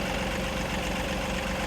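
A HydrosPlus Auger+ hydraulic auger working into soil gives a steady, droning engine hum with a low rumble that stays constant through the brief moment.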